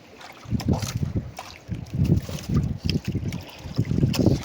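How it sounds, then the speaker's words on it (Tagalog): Gusty wind at sea buffets the microphone with low rumbling roar, mixed with splashing water around a small boat behind an island, continuous and close. "Mahangin pa rin."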